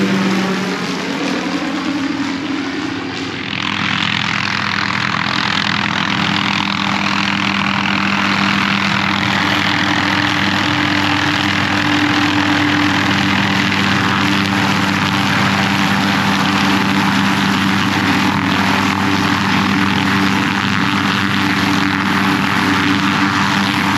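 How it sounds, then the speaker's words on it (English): A steady, loud engine drone with a rotor-like throb runs continuously and close by, unchanging from start to finish, with no voices. "So finally got chopper going."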